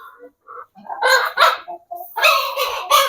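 Hens in a village coop clucking and crowing close by, in uneven bursts of several calls with short pauses between them, heard alone without talk.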